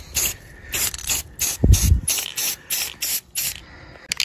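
Short bursts of an aerosol spray can laying a light coat of paint on an R2-D2 dome, about eight hissing pulses in an uneven rhythm, close and fairly loud, with a brief low thump near the middle.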